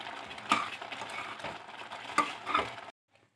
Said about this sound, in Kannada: ದಾಲ್ಚಿನ್ನಿ ಆಡ್ ಮಾಡಿ, ಸ್ವಲ್ಪ ಚೆನ್ನಾಗಿ ಬೇಯಲಿ, ಡ್ರೈ ಆಗೋ ತನಕ ಬೇಯಿಸ್ಕೊಳ್ಳಿ